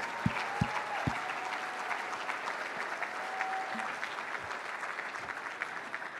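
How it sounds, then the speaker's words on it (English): An audience applauds the staff team at a startup grant cohort event, with steady, dense clapping at moderate volume throughout and a few low thumps near the start. "Yes, please, big round of applause."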